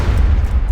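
A loud, close, bassy explosion booms from the Borderlands 2 video game, a dense rumbling blast that fills the whole short moment without any talking.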